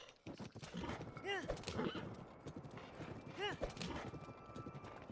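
Horse hooves clip-clop in the open-world video game Breath of the Wild in Master Mode, with whinnies rising over a steady rhythmic gallop while someone talks over the game sounds.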